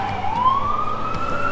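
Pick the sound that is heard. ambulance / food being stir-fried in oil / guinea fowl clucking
ambulance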